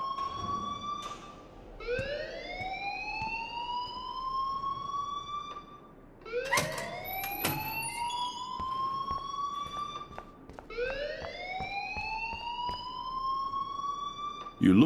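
An alarm sounds in the video game Life is Strange as a loud rising electronic siren tone, repeating in long upward sweeps about every four seconds, with sharp clicks in between.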